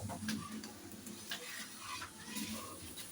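Lachha paratha cooking in a pan over a low flame, giving a soft, continuous sizzle with light scraping and shuffling sounds, close and fairly quiet.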